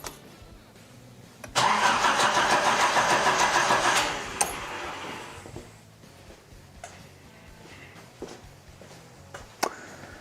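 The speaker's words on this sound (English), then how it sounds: "engine should not fire, coil is not hooked up" A 1980s Nissan 200SX with its ignition coil disconnected cranks on the starter for about two and a half seconds, a loud, close, steady grinding whir that never fires. Quieter clicks and handling noises follow.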